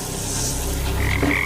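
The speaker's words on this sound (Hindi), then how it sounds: "और उनके साथ मेंढक भी।" Frogs croak in a dense, continuous chorus during a stunt challenge set among tarantulas and black ants, with a few louder calls standing out near the end.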